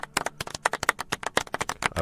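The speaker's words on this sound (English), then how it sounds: "I'm going to use a golf clap for no reason." A golf clap sound effect: a dozen or so light, crisp claps in a steady, slightly uneven patter, close and moderately loud, with no voices over them.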